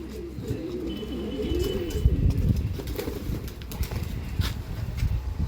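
Star Kalanka pigeons, a fancy breed from Andhra Pradesh, coo in low rolling bursts close by, with scattered flutters and shuffling noises underneath.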